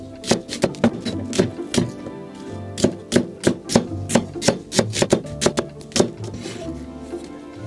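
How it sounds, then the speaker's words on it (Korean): A knife chops an onion on a cutting board in quick, uneven bursts of sharp, close thwacks, roughly twenty strikes with short pauses between runs, no talking over it. "그 사이에 양파를 썰어줄게요."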